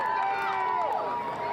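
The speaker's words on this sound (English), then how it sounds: "getting cheered on by tens of thousands of people" Tens of thousands of people cheer along a UConn championship parade route, a loud continuous roar with rising whistles and shouts layered over it.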